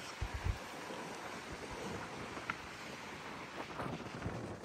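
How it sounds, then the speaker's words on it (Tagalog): Strong wind buffets the microphone at Mount Victoria lookout in Wellington early in the morning, a constant roaring gust noise with low thumps and rumbles, no voices. "Sobrang hangin."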